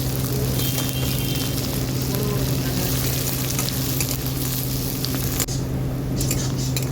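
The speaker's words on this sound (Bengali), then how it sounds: "পেঁয়াজটা একটু ভাজা ভাজা হয়ে গেছে।" Coarsely chopped onion fries in a pan for a vegetarian paneer paturi, a loud steady sizzle with occasional stirring scrapes and a low hum beneath.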